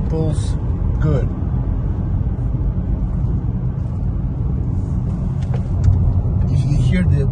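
A 2023 Chevrolet Onix accelerates at full throttle in fourth gear from about 60 km/h, with a steady low engine drone and road rumble filling the cabin while someone talks over it.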